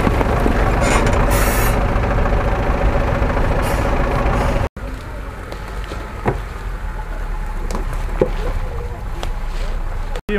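A heavy off-road truck engine rumbles loudly and strains, with wind-buffeted noise and voices in the background. It cuts out abruptly, then a lower-level engine drone continues with occasional knocks and clunks.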